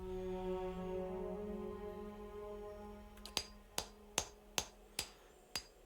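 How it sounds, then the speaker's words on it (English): Hammer and chisel strikes against a cracked stone wall in Pillars of Eternity: about seven sharp, evenly spaced metallic blows starting midway, over a steady low ambient hum. "I used the hammer and chisel"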